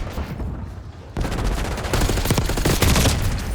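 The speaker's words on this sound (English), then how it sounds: "Rapid fire." Rapid gunfire in a Call of Duty battle in the snow: dense, sustained automatic fire that starts moderately and thickens into a loud, continuous fusillade of overlapping shots.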